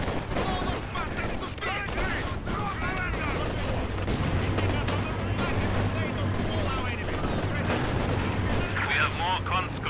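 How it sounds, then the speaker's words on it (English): Gunfire from an enemy attack on the HQ in Company of Heroes 2, with dense rattling bursts and booms over continuous battle noise and a voice speaking. "The enemy is attacking our HQ."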